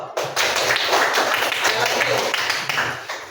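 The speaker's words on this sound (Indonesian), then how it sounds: "tepuk tangan dulu" A class of students claps hands together in a classroom lesson, a dense flurry of overlapping claps lasting a few seconds, fairly close and steady, with some voices mixed in underneath.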